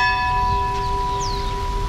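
A church bell rings near the street market of Santa Bárbara, Bahia, its steady, sustained metallic tone hanging clearly over low outdoor background noise.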